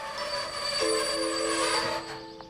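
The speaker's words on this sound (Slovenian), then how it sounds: "Zakaj še ni vlaka? Glej, že prihaja." A cartoon train pulls into a station with a sustained metallic squeal of wheels and rumbling carriages, loud and close, fading slightly at the end.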